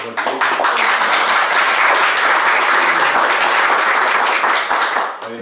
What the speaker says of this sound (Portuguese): E primeiro pedir uma salva de palmas